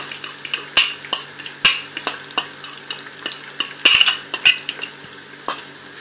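Egg dropped into a pan of onions frying in oil, with scattered metal utensil clinks and scraping against the pan over a soft steady sizzle.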